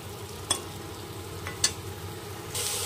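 Crab frying in a wok with a few scraping stirs standing out over a low, steady sizzle, the oil hiss brightening toward the end.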